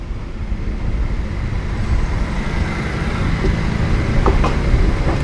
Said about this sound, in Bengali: এবার ট্রেন নসিপুর রেল ব্রিজ পার করে মুর্শিদাবাদ জংশন হয়ে ছুটে যাবে কাশিমবাজার বহরমপুর।